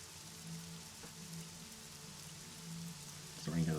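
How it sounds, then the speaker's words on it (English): Steady rain falling in the video game Gearhearts Rising, a continuous broadband hiss of drops on surfaces that runs without pause, with a faint low musical drone beneath and a brief swell near the end. "It doesn't stop. It just keeps raining."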